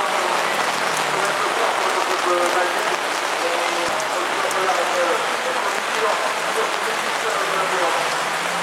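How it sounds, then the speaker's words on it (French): Heavy rain pouring down at a motocross event in Notre-Dame-des-Landes, a loud dense steady hiss of drops on surfaces filling the whole stretch, with faint voices underneath. "apparemment c'est le déluge encore."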